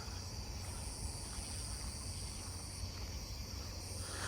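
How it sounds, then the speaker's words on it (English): A Nebraska conehead katydid calls outdoors in a neighbourhood, a steady faint buzzing drone that continues without pause, blended with other insect noise and a low ambient hum. "There's the Nebraska conehead."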